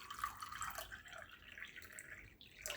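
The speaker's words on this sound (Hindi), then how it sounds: "सबसे पहले एक ग्लास ले लेंगे और अब इसमें डालेंगे हम ठंडा पानी।" Cold water poured into a drinking glass while making a drink gives a soft, quiet trickle with light dripping and splashing, close by and alone without speech.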